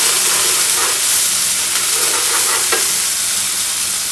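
Garlic sautéing in a pan for beef and broccoli hisses in a strong, steady sizzle, with occasional soft stirring scrapes over the unbroken frying noise.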